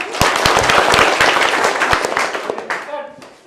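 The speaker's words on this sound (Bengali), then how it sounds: "সবাই একটা হাততালি" Students clapping together in a classroom, a dense burst of sharp claps that thins out and fades over a few seconds.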